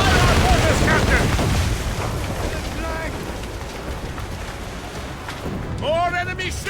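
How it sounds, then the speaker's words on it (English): Ship mortars firing in the naval video game Assassin's Creed Rogue: heavy booming blasts roll under a dense wash of battle noise and sea spray, with voices shouting over the din. "We can fire our mortars, Captain!"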